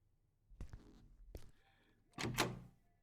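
Locked door in the horror video game Lost Alone rattling against its frame: two sharp knocks, a third thump, then a louder, longer rattle toward the end, all fairly close and with no speech.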